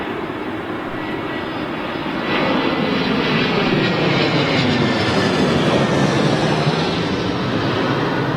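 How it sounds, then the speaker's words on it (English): An Etihad Airbus A380 arrives on runway 27L at London Heathrow, its engines producing a loud, steady, broadband roar that swells slightly after the first couple of seconds and holds close and continuous throughout. "we had Etihad 380 just now, didn't we?"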